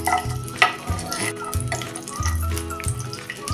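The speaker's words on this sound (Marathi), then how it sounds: "ह्या तेला तुपावर आपण आता हे काजू पहिल्यांदा परतून घ्यायचे आहेत" Cashews frying in a pan of oil and ghee over a low gas flame, a soft crackling sizzle with scraping stirs, close and fairly quiet, with faint talk over it.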